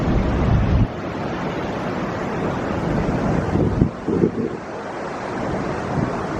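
Yellowstone River rushing between the upper falls in Yellowstone National Park, a steady broadband roar of flowing water mixed with wind buffeting the microphone, continuous and fairly loud throughout.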